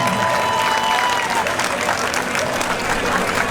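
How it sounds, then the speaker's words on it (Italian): Audience applause at a climbing competition, loud sustained clapping from a crowd with some cheering, continuous and even throughout. "facciamo un applauso agli speaker"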